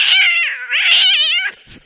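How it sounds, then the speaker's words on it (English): Two loud, wavering cat screeches close by, rising and falling in pitch, followed by a short hiss-like burst at the end. "Cats screeched outside"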